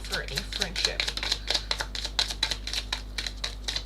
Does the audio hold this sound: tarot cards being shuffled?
yes